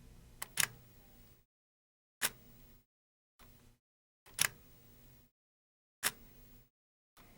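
Digital camera shutter firing repeatedly, five or six sharp mechanical clicks separated by silent gaps, each a crisp snap with a brief rattling tail, close and fairly quiet.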